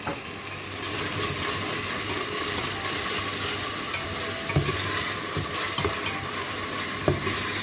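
Coriander, green chili and meat stirred in a frying pan, a steady close sizzle and frying hiss under repeated scraping and clinking of the spoon, with a few sharper knocks near the end.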